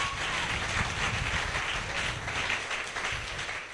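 A church congregation bursts into sustained applause and cheering, a dense, steady wash of clapping that fills the room from start to finish with no voices rising clearly above it.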